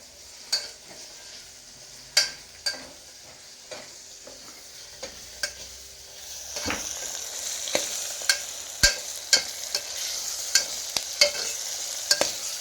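Mutton curry stirred in a pan with a spoon, a run of sharp scraping clicks over a soft sizzle that swells and grows busier in the second half, with no talk.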